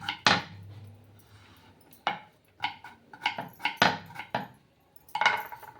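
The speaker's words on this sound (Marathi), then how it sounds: "चिरून घ्यायचं आहे आपल्याला कांदे" A knife chops onions on a cutting board in irregular sharp knocks, some single and some in quick clusters, close up and fairly quiet, with no speech.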